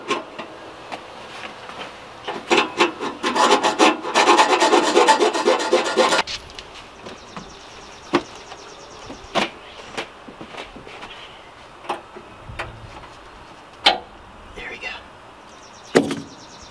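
A hacksaw cuts a part off a Scopema seat base. Rapid, close rasping strokes run for a few seconds, then give way to sparse metallic clicks and knocks as the work is handled.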